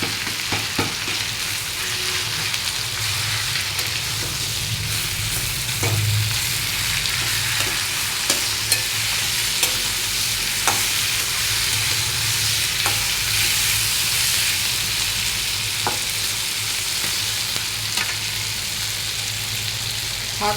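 Vegetables and hilsa fish heads fry in a pan over a gas flame, giving a constant crackling sizzle with occasional scraping knocks as the mixture is stirred, close and steady throughout.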